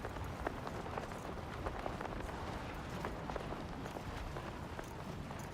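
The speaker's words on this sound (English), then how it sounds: "It's fucking raining." Rain falling in the video game Death Stranding 2, a dense, steady hiss with scattered soft patters and taps throughout, moderately loud and continuous with no voices.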